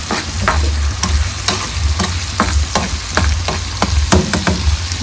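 Tomatoes cooking in oil with crushed garlic and ginger in a pan, giving a steady close sizzle with repeated sharp scraping strokes of stirring, no voices.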